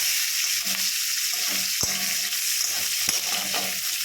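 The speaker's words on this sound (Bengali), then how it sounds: "এবার এটাকে আমরা একটু ভালো করে ভেজে নেব।" Onions frying in hot oil with cinnamon, cloves and cardamom, a steady close sizzle with a couple of sharp stirring knocks against the pan, and no talking.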